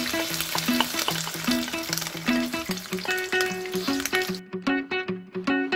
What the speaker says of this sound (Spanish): Ahora lo ponemos al comal con mucho cuidado de no quemarnos y lo dejamos ahí que se fríe